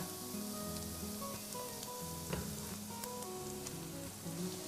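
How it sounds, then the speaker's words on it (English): Minced garlic, shallot and chili frying in oil, a faint steady sizzle with a soft stir or tap now and then, quiet and close, under a background of soft music. "fry some minced garlic, shallot, and chili until quite golden"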